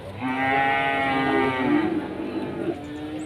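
Cattle low at a livestock market: one long, loud, close moo that rises and then falls away, with lighter lowing behind it and no talk over it.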